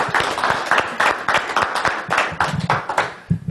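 An audience claps for a speaker at a public-speaking training session, a steady burst of applause that stays loud throughout and fades slightly near the end.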